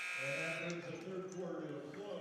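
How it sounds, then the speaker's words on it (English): A buzzer sounds at the end of the third quarter of a girls' varsity basketball game, a steady electronic tone beneath commentary and gym noise. "And there's the buzzer."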